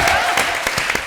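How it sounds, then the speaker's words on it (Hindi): A studio audience on a Hindi comedy show applauds loudly for a young girl, a brief burst of dense clapping with a few sharper claps standing out. "जोरदार तालियां बच्ची के लिए।"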